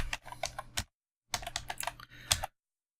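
Typing on a computer keyboard with no voices, in two separate bursts of rapid, uneven keystrokes set apart by a short silent pause.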